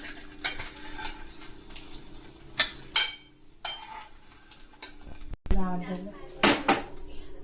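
Fried eggs sizzle on a tawa while a spatula scrapes and clinks against the pan to lift them out, the sizzle broken by short metallic knocks and a voice speaking at moments.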